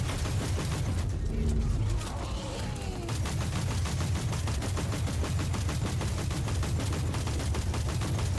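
Sustained full-auto gunfire in Warhammer 40K: Inquisitor - Martyr, a rapid, even stream of loud shots continuing without pause, with brief groaning game sounds early on.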